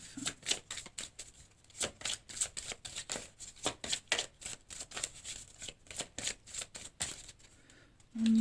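Tarot cards being shuffled by hand, a rapid run of crisp riffling flicks and slaps in an irregular rhythm, close and fairly loud, with no talking over it.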